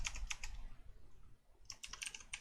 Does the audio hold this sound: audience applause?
no